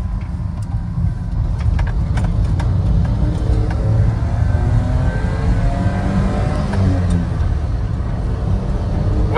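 A Suzuki Carry mini truck's 660cc three-cylinder engine hums and revs close by, its pitch rising and falling in a steady, loud drone that never lets up.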